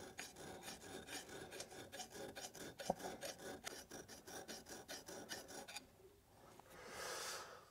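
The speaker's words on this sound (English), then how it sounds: "having filed up the opening" A hand file rasps in quick, regular strokes against the opening of a metal tsuba, up close, then stops, followed by a softer rubbing sweep at the end.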